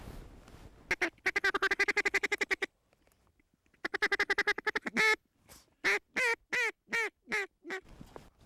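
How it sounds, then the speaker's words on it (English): Ducks quack in rapid bursts as they swing in toward hunters in North Dakota, loud and near: a run of quick calls, a brief pause, another rapid series, then several slower, drawn-out quacks. "Got 2 ducks swinging this way."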